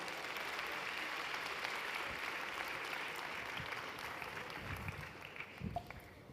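Conference audience applause at an international gastronomy event welcomes speaker Selassie Atadika: a continuous wash of clapping heard at a distance, fairly quiet, tapering slightly toward the end.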